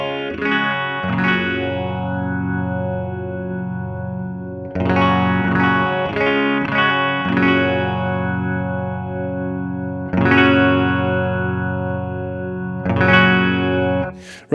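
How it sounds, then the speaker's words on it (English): Electric guitar chords ring through a Strymon Zelzah multidimensional phaser set fully to its phasing sound, heard in stereo, with several strummed passages that swell and sweep in a swirling, modulated wash, loud and alone with no talk. "all the way to the right would just be the phasing sound, and it doesn't actually sound that nice"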